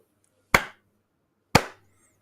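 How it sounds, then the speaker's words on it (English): Two sharp, isolated hand claps about a second apart, each a crisp close-up smack with a short decay, in an otherwise quiet podcast studio. "The clap helps us align it."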